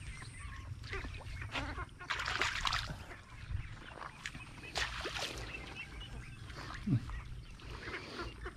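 Ducks quack intermittently outdoors, a few short nasal calls scattered over steady low background noise.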